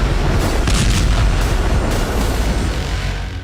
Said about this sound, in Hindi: देखिए जरा कैसे आसमान से मिसाइल गिरती है और टेंट बारूदी धुएं में उड़ जाता है